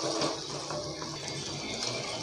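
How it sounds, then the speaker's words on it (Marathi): Reserved broth water poured into a pot of curry, a continuous close splashing rush of liquid running steadily for the whole moment with no talk. "आता आपल्याला जे सारच पाणी काढून ठेवलं होतं मी ते घालून घ्यायचं आहे याच्यामध्ये"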